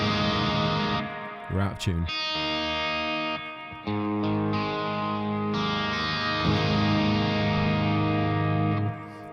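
Instrument run through a Torpedo with an aux channel, a V76 preamp on both sides, played as a sustained, effects-heavy distorted tone with echo and chorus wash. A voice speaks briefly over it.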